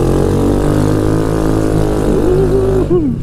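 Scomadi Technica 200i scooter engine running steadily, a loud, close, constant low droning hum with a slight rise in pitch near the end before it cuts off.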